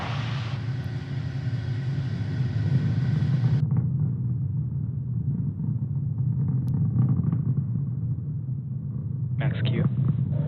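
Deep, loud low rumble of a SpaceX rocket climbing through supersonic flight on the Eutelsat 36D launch, steady and continuous, with a broad upper roar that cuts out partway and a brief burst of noise near the end.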